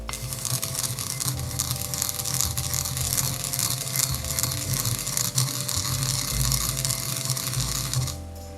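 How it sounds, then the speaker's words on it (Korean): A small hand grinder crushes sesame seeds in a continuous close rattling, ratcheting churn that holds steady for several seconds before stopping abruptly near the end, with no talking. "나물을 무치기 전에 참깨를 좀 갈아 놓겠습니다"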